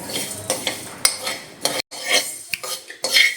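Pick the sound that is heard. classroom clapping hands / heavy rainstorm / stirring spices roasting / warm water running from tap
stirring spices roasting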